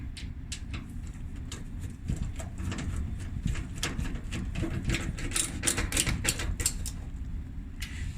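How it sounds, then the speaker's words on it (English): Phillips screwdriver tightening the door screws on a Maytag dryer, a series of sharp ratchety clicks and squeaks over a low mechanical rumble, close and fairly loud. "Tighten the door screws here."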